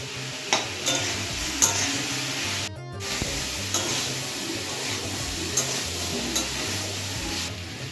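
Vegetables stir-fried with turmeric, coriander, cumin and chili powders for a vegetable dal, a steady sizzle broken by repeated spatula scrapes and stirring clatter, close and continuous with a brief gap midway.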